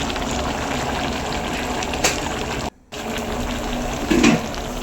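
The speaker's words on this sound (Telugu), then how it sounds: "చికెన్ పీసెస్ అయితే బాగా మెత్తగా ఉడుకుతున్నాయి ఫ్రెండ్స్" Chicken pieces simmering in liquid in a pan at a roadside dhaba, giving a continuous close bubbling and sizzling with one brief dropout and a few louder spurts.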